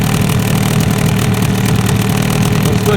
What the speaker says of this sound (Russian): заводим мотор, прокатимся с ветерком